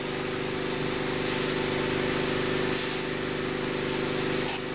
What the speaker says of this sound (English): Give a little push on this Schrader valve.